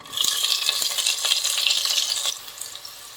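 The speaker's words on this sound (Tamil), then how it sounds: "வெங்காயத்தை நல்லா ப்ரௌன் ஆகுற வரைக்கும் வதக்குங்க." Onions fry in hot ghee after bay leaves in a pan, with a continuous bright sizzle and crackle broken by scraping stirs, close and without talk.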